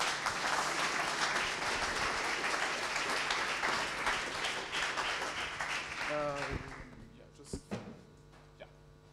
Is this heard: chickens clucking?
no